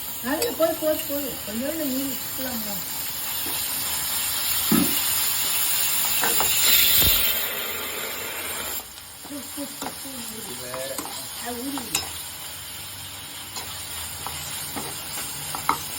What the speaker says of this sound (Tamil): இப்போ இஞ்சி பூண்டு பேஸ்ட் போட போறோம்.